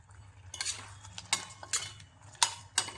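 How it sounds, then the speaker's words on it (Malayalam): A spoon stirs cardamom powder into a sweet jaggery mix for unniyappam-style sweets, giving a few soft, scattered scrapes and clinks against the bowl over a low background hum. "ഇട്ടൊന്ന് ഇളക്കി കൊടുക്കാം."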